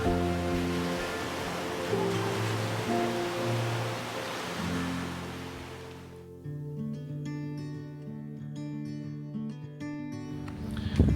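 Sea waves wash steadily on the shore in front of a beachfront villa hotel at Cha-am/Hua Hin, a broad, even surf hiss for about six seconds before music takes over.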